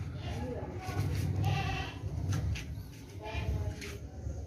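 Pregnant and milking goats, plump and healthy, bleat repeatedly at close range amid farmyard ambience, with someone talking over them.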